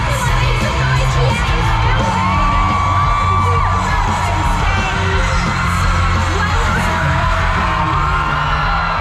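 A packed grandstand crowd at the Singapore Formula 1 night race cheers and shouts continuously, a loud, steady roar of overlapping voices and whoops with faint tonal sweeps drifting over it.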